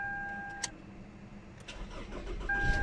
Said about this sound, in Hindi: तो गाड़ी अल्हम्दुलिल्लाह स्टार्ट हो गई है